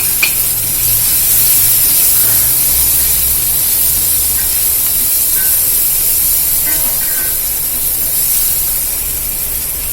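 Onions sauté in a hot pan with pepper and cumin powder, giving a steady, loud sizzling and hissing throughout, with occasional faint stirring scrapes and no talking.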